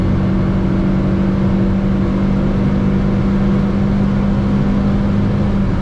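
A 2000 Rover car cruises on the Autobahn in fourth gear, its engine holding a steady, loud, close drone with road and wind roar that runs unbroken throughout with no talking.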